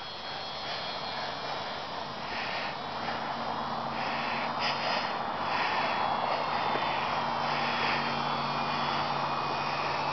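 A real airplane passes overhead at night. Its engine makes a steady, distant broadband drone that swells slightly toward the middle and holds for the whole stretch.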